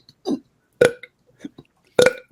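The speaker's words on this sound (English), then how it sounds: "I can belch naturally." A man belches twice, loud and close, each belch a short throaty burst. Small quieter vocal sounds fall between them.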